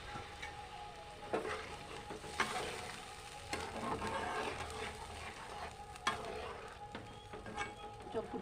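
Spices sauté in a pan for a fish curry, with a quiet, continuous sizzle broken by the scrapes and taps of a stirring spatula.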